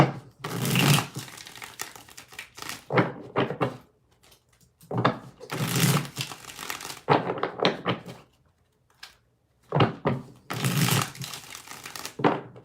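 A deck of tarot cards being shuffled by hand in repeated bursts, each a sharp riffle and clatter of card stock followed by a short pause, close up, with no talking.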